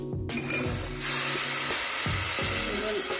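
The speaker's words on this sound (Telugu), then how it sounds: "అదే గిన్నెలో కొంచెం పెసరపప్పు వేసి కొంచెం లైట్గా వేయించాలి" Steady broadband sizzling of moong dal being lightly fried in a pan, loud and close, with a few soft scraping stirs underneath.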